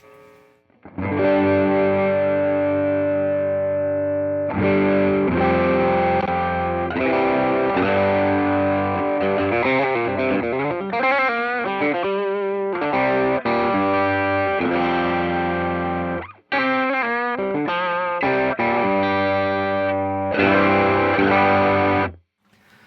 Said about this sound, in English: So let's listen to the TS9 mode.